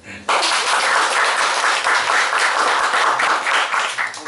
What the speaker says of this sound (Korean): 그러한 희망을 불어넣는 의미에서 박수 한번